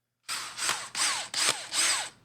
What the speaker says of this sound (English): Right, your drill.